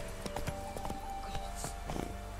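Horse hooves clip-clop at an easy walking pace in The Witcher 3 video game, a quiet, steady run of soft knocking steps.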